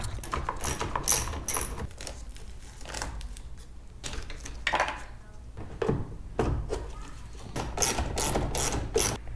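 A hand ratchet works out the three 10mm bolts holding the mirror on a Dodge Dakota R/T pickup, sounding as rapid clicking pawl runs in bursts with brief pauses and metallic rattles, close up.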